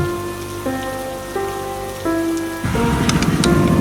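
Heavy rain pours down steadily, the hiss swelling louder partway through over a sustained, stepping musical tone.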